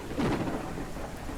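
Thunderstorm with rain on a planet surface in the video game SpaceBourne 2: a brief rumble of thunder rolling over steady hissing rainfall, loud and close.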